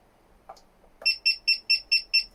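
A Grainfather all-in-one brewing system's timer is being set. After a couple of soft button clicks, seven sharp electronic beeps follow one another in an even, quick rhythm, close and clear.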